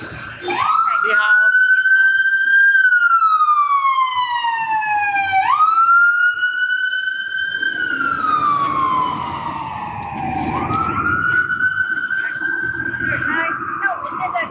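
An ambulance siren wails outside on a Newcastle street, its rising and falling tone loud and sustained throughout, passing close with shifting pitch.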